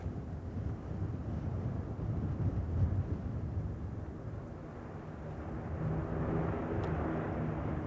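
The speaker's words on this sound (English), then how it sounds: "it flies over RAF St. Athan in salute to the Royal Air Force" Aircraft flying over RAF St. Athan at a 1984 UK air show, a steady broad engine roar with wind buffeting across the whole stretch, swelling slightly toward the end with no talk.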